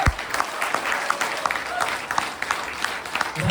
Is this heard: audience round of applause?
yes